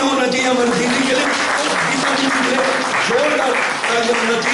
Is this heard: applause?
yes